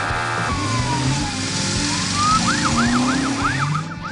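A police car siren in an animated story, loud and close, sweeping in a long falling and rising wail before switching to rapid repeated yelps over a steady engine-like drone.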